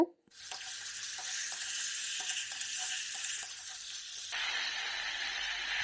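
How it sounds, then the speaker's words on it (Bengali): Potatoes sizzle loudly as they hit hot spiced oil in a pan, a dense steady frying hiss with occasional stirring scrapes, softening slightly toward the end. "এবার আলুটা দিয়ে হালকা করে ভেজে নেব"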